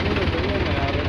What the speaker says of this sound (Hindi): अंकल ये ट्रैक्टर की मदद से बर्फ उतार रहे हैं